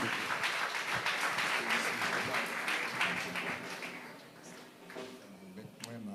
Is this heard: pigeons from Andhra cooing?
no